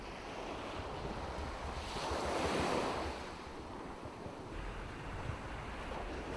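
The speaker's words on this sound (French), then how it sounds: "C'est un peu bizarre les bruits qu'il y a sous l'eau, n'est-ce pas?" Underwater sea ambience: a continuous soft rushing wash of water that swells louder for a moment in the middle and then settles, with no voices.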